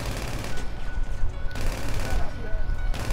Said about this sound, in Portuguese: Tô aqui trocando tiro com o Breno, velho.